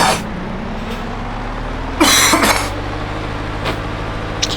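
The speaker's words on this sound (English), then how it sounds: "So that is why I cough and splutter like a trooper" A man coughing and spluttering from sinus trouble, a short harsh burst of throat noise near the mic over a steady low background hum, followed by a fainter single cough.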